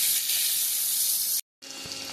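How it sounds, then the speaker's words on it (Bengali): Fish sizzles hard in hot oil in a wok, a loud, bright, continuous hiss that cuts out abruptly for a beat, then resumes slightly softer. "আর একটা কড়াই মাছটা ভাজা হচ্ছে"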